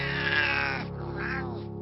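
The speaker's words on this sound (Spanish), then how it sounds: "¡Apártate, gato del diablo!" A cat meows as a sound effect in a dramatized horror audiobook, one drawn-out, harsh, wailing yowl that bends in pitch and tails off, loud and close with no speech over it.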